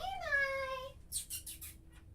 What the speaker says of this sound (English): There's a cat screaming at the door.